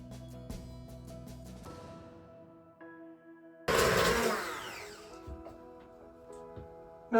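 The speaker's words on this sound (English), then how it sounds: "We now want to use our immersion blender to blend to a smooth consistency." An immersion blender whirs loudly for about a second blending gravy, its motor winding down after a burst, between quieter kitchen sounds and light music.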